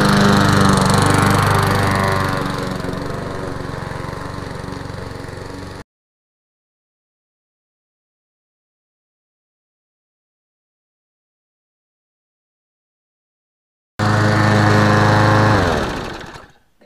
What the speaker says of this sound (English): it's a good idea to mow some lawn with it, just to make sure it's not going to stop running in 2 minutes